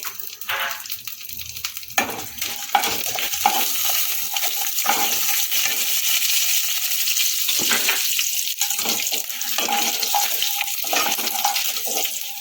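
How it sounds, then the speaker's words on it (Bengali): Tempering spices and dal fry in hot oil in a pan for sweet corn upma. A continuous crackling sizzle is interrupted by repeated scraping stirs, with no talking. "এবার আমি ফোড়নটাকে মধ্যে দিয়ে দিচ্ছি ফোড়নটাকে ভালো করে ভাজ ভাজবো"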